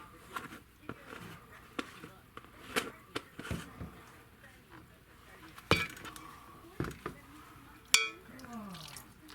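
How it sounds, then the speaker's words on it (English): Queso mac and cheese with salsa stirred in a pot, a spoon clinking and scraping against the metal in irregular taps and scrapes, fairly close, with a voice speaking at times. "Okay, I'm gonna stir this all up."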